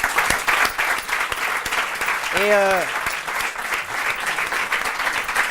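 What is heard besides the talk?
audience applause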